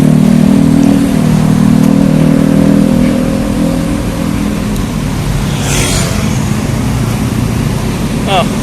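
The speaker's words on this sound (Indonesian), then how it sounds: "Ada kendaraan motor." Motor vehicles rushing along a fast highway lane at the Semanggi interchange in Jakarta, with a loud engine roar fading past and continuous traffic noise behind.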